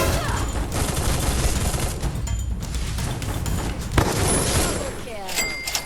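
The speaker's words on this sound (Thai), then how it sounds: "เสียงปืนพกแบบนี้ แสดงว่าเพิ่งเกิด" Rapid bursts of pistol fire in the video game Free Fire crackle through a dense, noisy mix, with a sharp crack near the end and voices talking over it.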